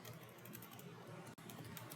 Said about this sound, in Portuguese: vou digitar aqui, ó,